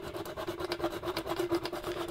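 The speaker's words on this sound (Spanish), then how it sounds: "Con un trozo de papel de lija podemos lijar un poco de pintura y aquí otro poco de pintura." Sandpaper rubbing paint off a metal contact for a homemade electrical conductivity tester science project; a steady, close scratchy rasp of quick back-and-forth strokes with no talk.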